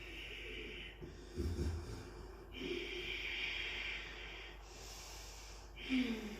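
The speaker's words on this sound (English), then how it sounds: "a sound created like a snoring baby" Slow ujjayi yoga breathing through the throat with a soft raspy hiss, drawn in and out in long strokes, close and fairly quiet, with brief rougher snort-like bursts.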